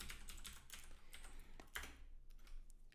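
Fast typing on a computer keyboard while entering a search into Google, a steady run of close, crisp key clicks with a brief pause near the end.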